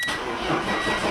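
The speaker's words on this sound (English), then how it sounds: "this jump pack actually started this car" Cold car engine cranking and catching on a portable jump pack with a nearly dead battery on a chilly day, a short, steady mechanical whir close by.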